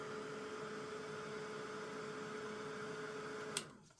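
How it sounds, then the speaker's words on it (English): A small heat craft tool drying matte medium on an altered paper card, giving a steady close whirring hum that runs evenly and then cuts off abruptly near the end. "now I'm drying the entire card"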